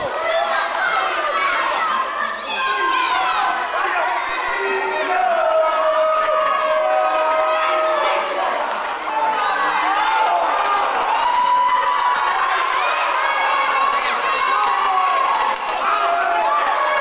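A ringside wrestling crowd at a title match cheers and shouts continuously as a wrestler taunts them, a dense, lively mass of many voices that stays loud for the whole stretch.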